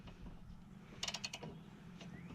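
A socket ratchet loosening a bolt on a Craftsman push mower gives a short burst of rapid clicks near the middle, close and fairly faint against quiet background hum.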